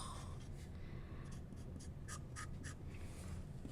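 A Sailor fountain pen with a flexible nib scratches across paper in a factory housing, writing brown-pink ink in short, close strokes with light, textured feedback and no talking.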